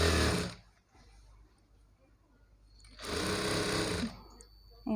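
An electric sewing machine stitches a Punjabi dress pant in two loud, fast runs separated by a quiet pause, while a voice talks softly in between.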